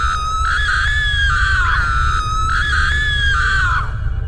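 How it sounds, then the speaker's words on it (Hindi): A witch in an animated horror story screams loudly in two long, wavering shrieks over a low rumbling background, close and intense. "वो जोर जोर से चिल्लाने लगती है।"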